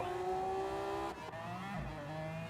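McLaren race car in an endurance racing video game at Fuji Speedway, its high engine whine holding steady then dropping through gearshifts, loud and continuous, with a brief tire squeal and no talk.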